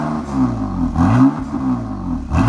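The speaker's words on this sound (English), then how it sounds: "let me show you the different tones of this exhaust" BMW M4 Cabriolet exhaust in its quiet efficient mode, several rising and falling engine revs with a low, smooth drone, close and loud, no talk.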